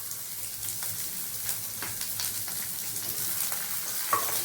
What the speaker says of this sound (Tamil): இந்த பக்கம் சின்ன வெங்காயம் எல்லாத்தையும் வதக்கிடுவோம்.